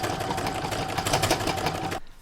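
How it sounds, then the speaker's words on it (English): An embroidery machine stitches a Santa bag design in the hoop, a fast, even mechanical chatter of the needle running close and steady before stopping abruptly. "So it's now going to stitch round 15"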